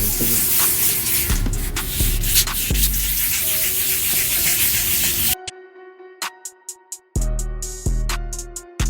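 Sanding and rubbing sounds from wet-sanding a scratched Acura TL Type-S taillight give way to several short bursts of a water spray bottle, quick hissy squirts separated by brief pauses.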